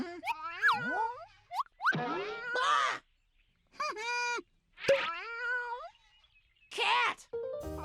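Cartoon-style cat meows in a toddler animal-sounds segment: a series of bright, pitch-bending meow calls in separate bursts with short silences between, fairly close and clear, with a springy boing-like effect mixed in.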